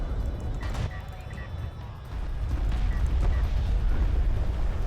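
Artillery cruiser barrages in a competitive strategy match, heard as rumbling, eruptive blasts and crackling bursts rolling on steadily beneath a commentator speaking over them.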